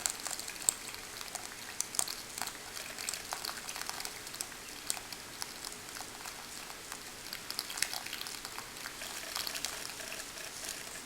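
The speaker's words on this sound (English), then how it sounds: "We're going to pour the water really slowly, and we're going to see what happens while we pour the water slowly into the stream here." Water poured slowly into a sand stream table, a steady soft trickle and hiss with small irregular splashes running continuously and evenly, fairly close, with no voices.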